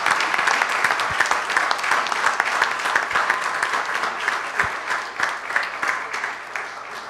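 Sustained applause from a conference audience at a closing session, dense steady clapping that fills the room for the whole stretch without easing off.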